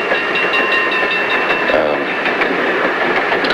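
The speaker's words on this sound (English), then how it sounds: "This train's traveling a long way." A passenger train rolls along the rails with a steady, continuous rumble and faint rhythmic clatter inside a carriage, with voices murmuring over the noise throughout.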